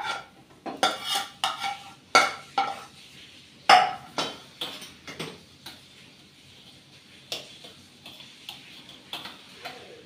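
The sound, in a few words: fried greens being transferred from pan onto a plate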